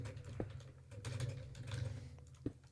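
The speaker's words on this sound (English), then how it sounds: "My keyboard is surprisingly loud" Rapid clicking of keys on a computer keyboard, close and fairly loud, with a few heavier thumps among the steady typing.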